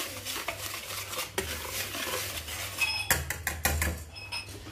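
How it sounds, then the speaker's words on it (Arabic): Dry ingredients with semolina being stirred in a bowl, a spoon scraping and clinking against the sides in quick irregular strokes, close and fairly loud, with no talking. "نحرك النواشف مع بعض"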